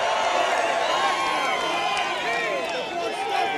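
A large rally crowd cheers and roars without letup, a dense wash of voices, whoops and scattered shouts filling the space near and far.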